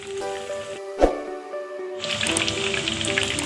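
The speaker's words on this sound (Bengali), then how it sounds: "এভাবে উল্টিয়ে পাল্টিয়ে ভালোভাবে ভেজে নেব।" Masala chicken fries in a pan, a dense, close hiss and crackle that swells in after a quieter stretch with a sustained hum and a single splashy knock.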